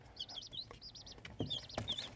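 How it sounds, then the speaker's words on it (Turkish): Newly hatched chicks peep in rapid, high, repeated chirps close by, with a few soft thumps of movement mixed in. "Şu an gördüğünüz gibi civcivler iyiler, sağlıklılar."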